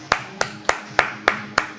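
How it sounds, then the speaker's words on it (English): Six slow, evenly spaced claps ring out sharply and close at roughly three-per-second pace, a sparse audience applause greeting Sandy McCormick, with no voices over them. "Big round of applause, Sandy McCormick"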